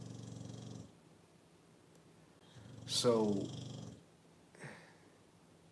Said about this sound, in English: if you hear something snoring, that's my dog